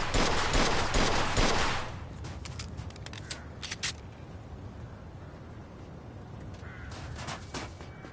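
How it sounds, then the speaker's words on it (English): Gunfire in Mafia 2 Definitive Edition opens with a dense, loud burst of rapid shots for about two seconds, then drops to a few scattered, quieter sharp cracks over a low background. "All right, that's enough shooting."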